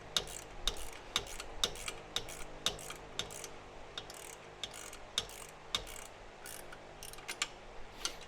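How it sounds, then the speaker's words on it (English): A ratchet tightening a 7/16 nut on a trimmer rack, giving a quick series of faint clicking ticks in short bursts at close range with no talking. "I'm going to tighten it down just a hair"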